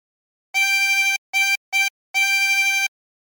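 A harmonica is blown on hole 6 four times, giving the same reedy, buzzy note in a long, short, short, long rhythm, clear and alone against silence.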